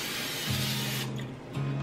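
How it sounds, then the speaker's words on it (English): Cooking spray hissing from an aerosol can into the inside of a crock pot, a steady close hiss with a brief pause before a second short burst. "Then I'm going to get my cooking spray and I am going to just spray inside of it."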